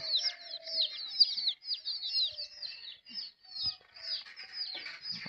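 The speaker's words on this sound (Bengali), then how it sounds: "মুরগিগুলো আছে দেশি মুরগির বাচ্চাগুলো আছে এখানে কাছের ভিতরে রোদে দিচ্ছে" Native chickens and their chicks fill the air with rapid, high-pitched peeping in quick overlapping bursts, joined by a few soft low clucks, all close and fairly quiet.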